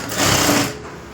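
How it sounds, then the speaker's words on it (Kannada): A sewing machine stitches the lining of a princess cut blouse in a brief close whirring run that swells and then eases off, with no voices. "ಕಟ್ ಮಾಡ್ಕೊಂಡಿದ್ದಾದಮೇಲೆ ಇಲ್ಲಿ ಒಂದು ಸ್ಟಿಚಿಂಗ್ ಹಾಕೋಬಿಡೋಣ"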